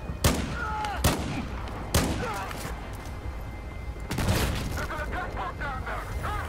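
A shotgun fires in the Battlefield 4 campaign, with four loud, sharp blasts spaced unevenly over a few seconds and ringing echoes and game ambience filling the gaps.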